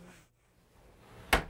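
A newly hung interior door swings shut and its latch clicks home in one sharp, loud impact near the end, after a short stretch of quiet room tone.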